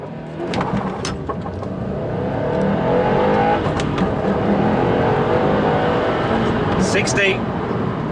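A Subaru WRX STI revs and accelerates hard from a standstill on a damp, wet day, its roar building and staying loud throughout, with voices talking over the engine noise.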